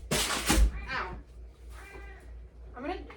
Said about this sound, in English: This is Jupiter. He is my cat.